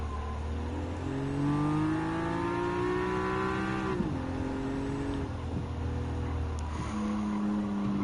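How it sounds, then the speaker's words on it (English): A 2007 Nissan Fairlady Z Version S engine revs steadily in Gran Turismo 7, its pitch climbing through gears with sharp shifts, loud and continuous with no voices over it. "driving with a 2007 Nissan Fairlady C version S"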